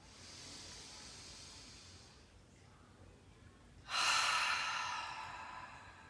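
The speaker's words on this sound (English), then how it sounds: "Exhale, let it go. Inhale." Deep yoga breaths, a long soft airy exhale fading out, a brief pause, then a louder, close hissing inhale through the nose.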